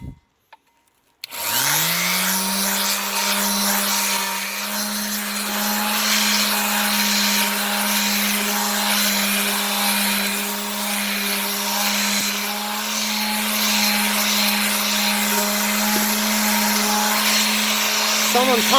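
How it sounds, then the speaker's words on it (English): A power sander grinding rust off the back of a vintage railplate starts abruptly and then holds a loud, steady motor whine with a rough abrasive hiss, continuing without pause to the end. "here's the back of it, and I'll show you how to sand it down"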